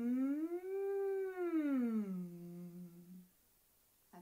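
A single voice imitates a siren with a closed-mouth hum as a vocal exercise, gliding smoothly up, holding, then sliding down to a low sustained tone before stopping.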